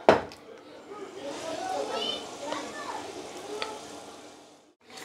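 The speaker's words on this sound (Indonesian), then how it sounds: "Lanjutkan dan terakhir goreng bakwan." Bakwan, Indonesian vegetable fritters, fry in hot oil, giving a steady sizzle and crackle with faint clinks of a utensil and light background noise throughout.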